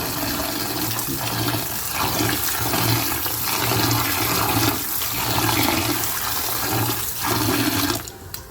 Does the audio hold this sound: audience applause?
no